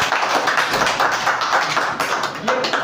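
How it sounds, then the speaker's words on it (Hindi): Audience clapping loudly at a talk in a drug rehabilitation setting, a dense, steady burst of many hands applauding together, close and full with no voices over it. "जोरदार ताली बजाइए"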